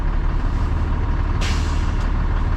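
Truck air brake governor cutting out, a sudden hiss of air pressure release bursting in about midway over a steady idling diesel engine, with a second brief hiss shortly after.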